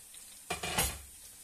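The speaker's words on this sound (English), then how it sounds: "And we'll just gently fry this off." Garlic frying gently in a pan, heard as a soft sizzle with a brief stirring scrape, quiet and close.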